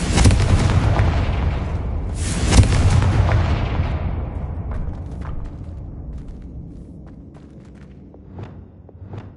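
A Confringo blasting spell from Hogwarts Legacy bursts as a loud, booming explosion, followed by a second blast about two seconds later, then a rumbling tail that fades under small crackling debris.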